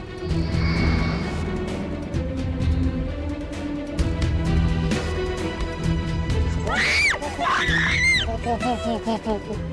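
A woman's scream rises sharply near the end of a tense, noisy scene, loud and strained, set against a dense rumbling background and other voices.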